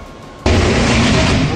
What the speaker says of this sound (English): It's incredible how such a small, nondescript box can cause such a massive explosion.